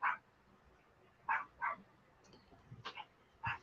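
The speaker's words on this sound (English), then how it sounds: "I got my dog barking." A dog barks several times in sharp, separate yaps, close and fairly loud, with brief quiet gaps between the barks and no talking over them.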